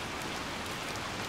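Rain falls in the video game Little Nightmares II as a brief, faint, even hiss of steady rainfall, with no other sounds standing out.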